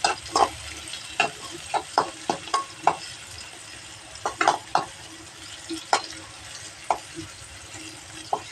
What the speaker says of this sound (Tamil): எண்ணெய் காஞ்சக்கப்புறம் வெங்காயம் போட்டுக்கலாம். நல்லா வதக்கிக்கலாம்.